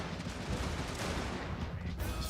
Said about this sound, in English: Cannons are now blasting this area over here.